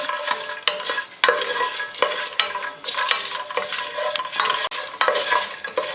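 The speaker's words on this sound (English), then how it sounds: "Then add this raw peanuts and fry it." Raw peanuts crackle and sizzle in a hot pan as a spatula scrapes and stirs them in quick repeated strokes, loud and close with no talking.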